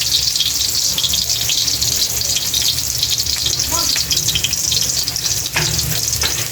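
Garlic and onion sauté in a pan for ginisang sayote with sardines, a steady close sizzle and frying hiss with occasional stirring scrapes throughout.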